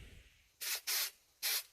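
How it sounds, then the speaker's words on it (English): A spray paint can, already shaken, lets out three short test bursts of hissing spray, close and loud against near silence, the second burst slightly longer than the others. "Do a little test spray."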